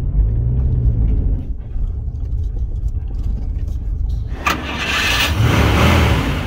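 A scrap Rover 45 car's engine cranks and catches, then settles into a steady rumbling idle up close, with a voice heard around it.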